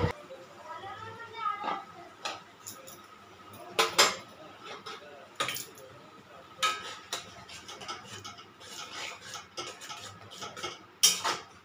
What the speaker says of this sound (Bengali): এখানে আমি একটু ভালো করে নাড়াচাড়া করে নেব।